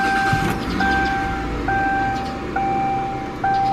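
A Hyundai XG350L, just repaired after a rough-running misfire, idles smoothly with a low, steady engine hum, while a repeating electronic chime beeps over it at regular intervals.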